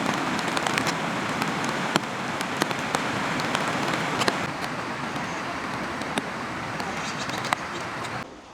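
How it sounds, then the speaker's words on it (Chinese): Heavy rain falling steadily in a Beijing Olympic forest park by a lakeshore, a dense, even hiss with sharp drop ticks, and faint road traffic beneath. "这会儿雨越下越大了啊"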